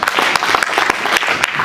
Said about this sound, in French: Vicky Joseph, on l'applaudit encore, s'il vous plaît.